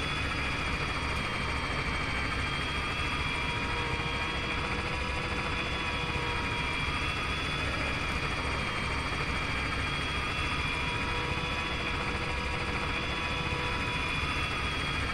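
Helicopter engine and rotor in a co-op military video game, a constant loud droning whine with no letup, close and steady throughout with no talk.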